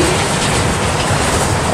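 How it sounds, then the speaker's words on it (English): A coal train bound for Long Beach rolls past on the rails at a railfanning spot in Commerce, producing a loud, steady, broadband rumble and roar that stays close and constant throughout. "I didn't expect this coal train to be coming down"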